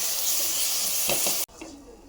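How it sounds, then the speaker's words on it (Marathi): Curd is mixed into a sizzling gravy in a pan for a Khandeshi dabuk vada curry, a strong steady hiss with a few soft stirring scrapes before the sound cuts off abruptly. "आता आपण याला मिक्स करून घेऊया व्यवस्थित."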